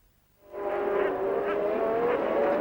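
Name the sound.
Formula One race cars racing past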